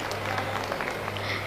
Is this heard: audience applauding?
yes